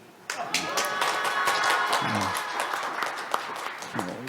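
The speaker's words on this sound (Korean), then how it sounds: "박수도 좀." An audience at a disability forum claps for a speaker, a scattered, moderately close round of hand claps with a voice briefly heard over it.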